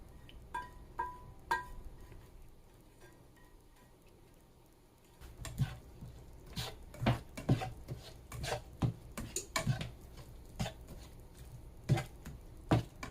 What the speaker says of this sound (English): Scraping all the brown off of the pan.